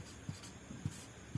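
Pen on paper while a math solution is worked out, with faint soft scratching and a few light taps from strokes at irregular intervals, very quiet and close.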